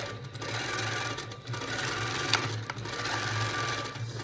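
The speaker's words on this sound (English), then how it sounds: "So I am going to let this continue to stitch" A Handi Quilter Pro Stitcher computerized quilting machine stitches steadily, its continuous mechanical whir and needle hum running loud and close for the whole stretch without speech.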